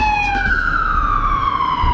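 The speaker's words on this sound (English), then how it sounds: "that ambulance, you hear that?" A wailing ambulance siren sweeps down in pitch as it passes, loud and steady, with a pitch jump early on and no talk over it.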